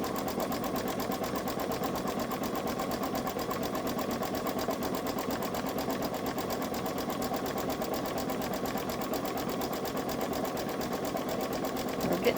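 A Babylock Solaris 3 sewing machine stitching an embroidery design, a steady fast mechanical whir and rapid needle patter that runs without a break at an even level throughout.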